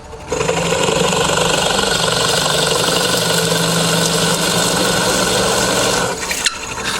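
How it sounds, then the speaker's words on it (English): A power drill on slow speed with a large bit whirs steadily as it bores into a wooden board, with a grinding, rubbing texture for several seconds before stopping abruptly. "I'm going to drill on a slow speed because it's quite a big bit"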